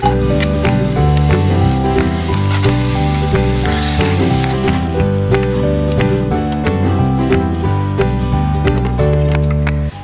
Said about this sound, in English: I use Pam spray to coat the bottom before I throw the chicken in there.